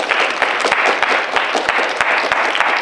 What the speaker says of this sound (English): we should start off with a big round of applause for yourselves